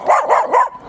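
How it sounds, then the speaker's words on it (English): A small dog being trained for reactivity barks three times in quick succession, the sharp, fairly loud yaps coming close together with no talking over them. "And she's barking and barking and barking."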